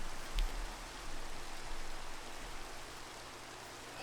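Steady rain pouring down in Minecraft, a dense, even hiss of falling water that holds at a constant level throughout, with one faint brief knock near the start.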